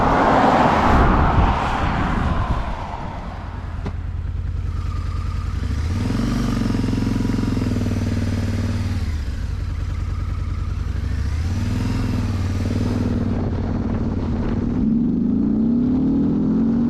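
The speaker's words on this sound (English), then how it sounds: "Can you hear those pipes?" A 2003 Harley-Davidson V-Rod motorcycle being ridden on the road, its exhaust pipes giving a steady, loud engine drone that rises and falls in pitch as it accelerates and shifts, with wind noise throughout.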